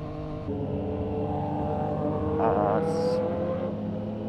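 Car accelerating past on a street during a motorcycle ride, a steady engine roar rising and swelling midway as it goes by, with brief voices and a short high whine over the noise.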